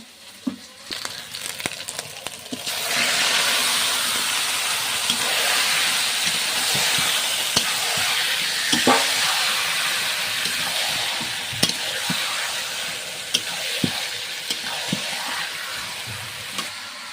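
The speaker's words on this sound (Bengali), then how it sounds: "মশলাটা আমার কষানো হয়ে গেছে মাংসটা ঢেলে দেবো" Chicken meat pours into a pan of cooked spice masala and fries with a loud, steady sizzle and hiss. Occasional clinks and scrapes of stirring cut through, close up, with no talking.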